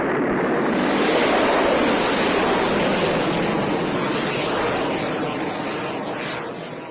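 Rocket launch right after ignition, a loud continuous roar of broadband rumble and hiss that holds steady and slowly fades toward the end, heard as a played recording with no voices.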